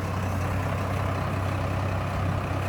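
A 2015 Mazda 3 with a 2.5 litre four-cylinder petrol engine and automatic front-wheel drive runs steadily at idle, a close, even low hum with a constant drone and no other sounds.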